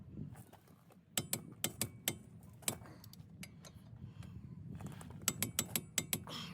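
A ratcheting torque wrench tightening the rear axle of a 2014 Subaru Forester, in quick runs of sharp clicks with pauses between them, close but quiet.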